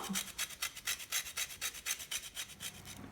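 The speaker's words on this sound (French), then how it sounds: "on vient ajouter un peu de zeste de citron" Lemon zest being grated, a quick, even run of about fifteen dry rasping strokes close up, quiet and with no voices.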